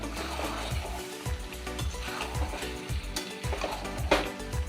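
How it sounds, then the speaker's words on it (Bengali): Fried meat tipped into oily spice masala, a moderate sizzle with repeated scraping knocks of stirring at a steady rhythm. "এবার আমি এই মাংসগুলো এর মধ্যে দিয়ে দেবো,"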